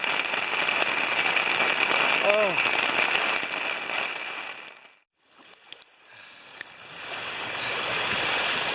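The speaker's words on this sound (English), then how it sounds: "that just poured down like torrential rain that you would see in the tropics" Torrential tropical-style rain pours down steadily at a campsite, a dense, loud hiss that dips away briefly then returns; a voice makes a short exclamation partway through.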